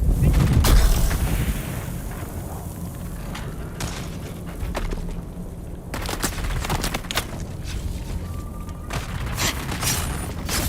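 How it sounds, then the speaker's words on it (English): A grenade blast in the video game Dune Awakening, a heavy boom near the start within a dense stretch of game gunfire and explosions, with rumbling impacts continuing throughout. "Throwing grenade!"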